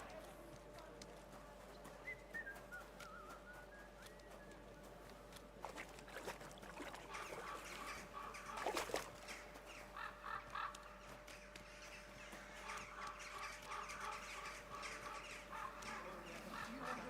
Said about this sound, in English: What are all the weird bird sounds I'm hearing?